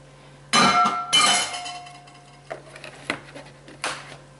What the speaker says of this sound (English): Get my whisk out.